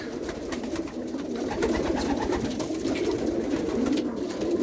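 Vandenabeele Koopman racing pigeons, a loft of about 150 delbars with glass eyes, coo continuously in a dense, overlapping chorus that stays loud and steady throughout.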